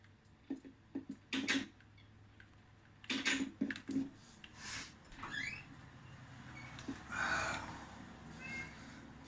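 A cat meows in several short bursts, close but fairly soft, with quiet room noise and faint ticking between the cries.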